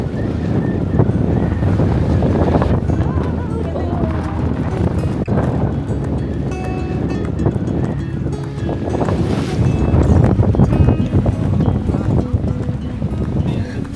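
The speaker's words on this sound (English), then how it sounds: "The water was incredibly rough. The boat was bouncing so much" Strong wind buffets the microphone over the rush and slap of rough ocean water against a moving boat off Cape Cod, continuous and loud throughout.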